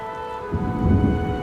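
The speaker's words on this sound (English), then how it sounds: "Did you hear the thunder just now?" A thunderstorm with heavy rain in the video game Fire Emblem Three Houses: pouring rain hisses beside a steady musical drone, then a deep rolling rumble of thunder swells up about halfway through and carries on loud to the end.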